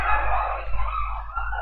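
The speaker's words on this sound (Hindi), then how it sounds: "अरे यार अचानक कुत्ते चिल्ला भौंकने लगे।" Dogs barking outside, a blurred run of barks and yips through a closed room, fairly loud over a low background hum, with no talk.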